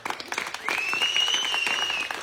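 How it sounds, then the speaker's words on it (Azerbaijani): A group claps loudly and continuously after a contest for a 100-manat prize, the dense applause joined midway by a sustained high whistle-like tone. "Uşaqlar, alqışlayaq."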